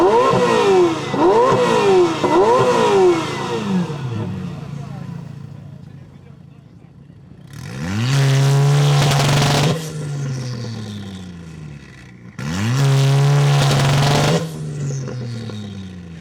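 A Ferrari 488 Pista with a 3.9-litre twin-turbo V8 and a VW Golf R with a 2-litre turbo inline-four, each tuned to about 700 bhp, revving loudly in turns: quick blips first, then two longer surging revs that fall away.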